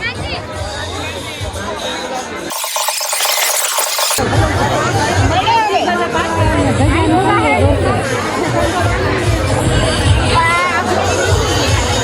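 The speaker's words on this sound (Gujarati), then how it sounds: "ભાઈ બીજા ગેટે કેટલી ભીડ જો દર્શન માટે" A dense crowd waiting at a temple gate for darshan makes loud, continuous overlapping chatter close by, with a brief cut to near silence early on before the babble resumes.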